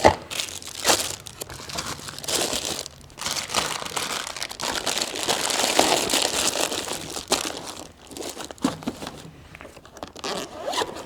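A full roll of monitor paper is handled in the storage compartment of a Lifepak 15 defibrillator, giving close, continuous crinkling and rustling with sharp zipper-like rasps and bursts over eleven seconds, with no voices.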